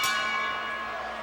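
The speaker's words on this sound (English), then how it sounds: "Bell's gone." A wrestling ring bell at a 1986 televised match rings once and rings on, bright and metallic, decaying slowly over crowd and arena noise.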